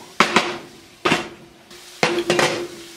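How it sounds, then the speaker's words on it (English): Onions with salt and pepper are stirred in a metal pot, giving loud close clanks and scrapes of a utensil against the pot in three short bursts, with no talking. "We're just going to stir this up."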